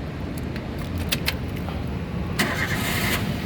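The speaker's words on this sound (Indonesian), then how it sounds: "sekarang kita coba nyalakan mobil" A 2011 Daihatsu Xenia 1.3 Xi Sporty with manual transmission cranks with a steady whirring starter, a few keys click, and then the engine catches and settles into a loud, even idle close by.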